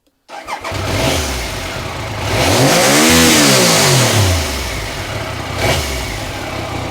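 A Triumph Sprint 900 motorcycle engine starts, then revs up and back down in one smooth sweep before settling to a throaty idle, loud and near.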